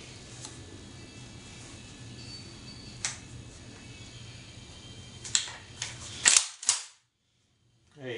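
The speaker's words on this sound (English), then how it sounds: "you can hear what the rack and the slide sounds like" A Hatsan Escort Slugger 12 gauge pump shotgun is racked, giving a few sharp, crisp mechanical clacks of the slide close by in a quiet room, the last ones loudest before silence.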